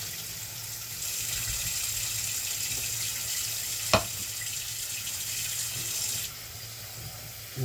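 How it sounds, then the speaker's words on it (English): Cold water runs steadily from a kitchen tap into a pot of potatoes, a continuous hissing wash that carries on for several seconds before easing off near the end. "get the tap cold"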